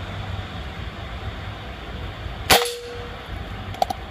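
An air rifle fires a Jawara GR10 pellet with one sharp, close crack over a steady background hum, followed by a faint metallic clink of the pellet striking the target a moment later.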